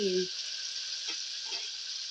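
Coriander and spices frying in a pan for a lamb head curry, giving a steady soft sizzle throughout with a couple of faint stirring scrapes, and a short low hum at the very start.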